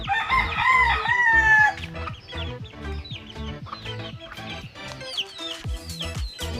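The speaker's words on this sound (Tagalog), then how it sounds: "tara puntahan natin yung alaga ng manok" A rooster crows loudly up close, then hens cluck in short, repeated bursts, scattered and lively, with some faint chirping around them.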